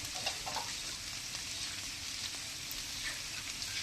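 Maize-flour makka gudalu dough pieces with mixed ingredients fry steadily in a pan, producing a continuous, even sizzle with soft crackles throughout, moderately loud and close, with no voices.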